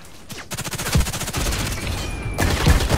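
Rapid, loud FN P90 automatic fire in the shooter game Contract Wars, two sustained bursts of closely spaced shots with a short pause between, right up front and alone.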